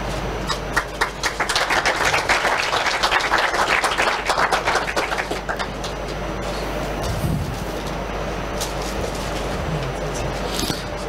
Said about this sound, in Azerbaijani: Beləliklə alqışlarınızla ilin futbolçusu Emin Mahmudov tərtif olunur.